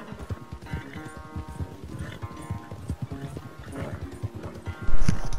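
Rhythmic hoofbeats of a galloping horse in Red Dead Redemption 2 clatter steadily over game music, ending with a loud burst near the close.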